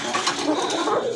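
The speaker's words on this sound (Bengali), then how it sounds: "খুবই সুন্দর ডাকে, দুইটাই নরমাদি কিন্তু দুইটাই ডাকে" A pair of Koka pigeons coo together, a short burst of soft, low, warbling calls that sit close but slightly muffled under a hissing background.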